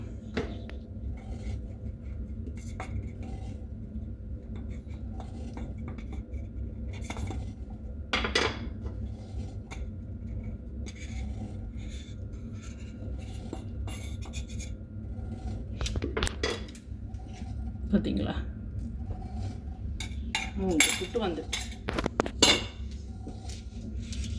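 Odiyal puttu is pushed out of a hot metal steaming tube held with a cloth, giving faint scrapes and light metallic clinks over a low steady background hum, with a cluster of sharper clinks near the end.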